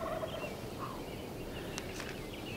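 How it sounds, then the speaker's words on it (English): A wild turkey gobbles at a spring hunting opener in Washington, a faint distant rattling call heard once or twice against quiet outdoor background. "Opening morning gobbles."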